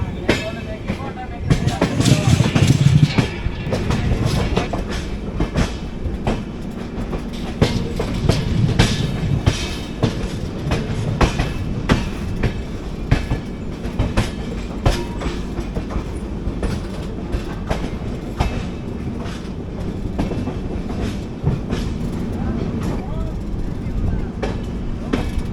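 The 22476 Coimbatore–Hisar AC Express rolls along the rails, a continuous rumbling roar with repeated clickety-clack wheel beats and scattered rattles throughout.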